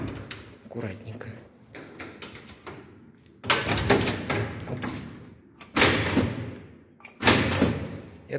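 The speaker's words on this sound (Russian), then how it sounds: "Это замок срабатывает на режим занято." An old 1966 KMZ swing-door elevator's door lock engaging: several loud, heavy metallic thuds and clunks, close by, following quieter rattling, with a voice speaking in the background.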